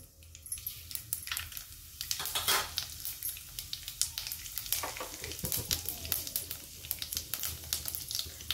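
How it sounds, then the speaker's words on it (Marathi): Mustard seeds and cumin sizzle and crackle in hot oil in a kadhai on a gas stove, with sharp, irregular pops spattering over a steady frying hiss, fairly quiet and close. "तेल गरम झाले, एक चमचा मोहरी टाकून घेऊ, जिरे पण टाकू"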